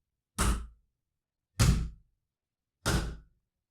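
Three heavy, evenly spaced thuds on a door, each sharp and booming with a short decay, set against silence as a sound effect in a horror story.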